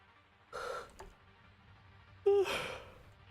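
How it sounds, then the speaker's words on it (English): A man's yawn during a game development livestream, a single breathy exhale with a brief vocal tone, near and fairly quiet, preceded by a shorter breath sound. "I don't know why I'm yawning so much."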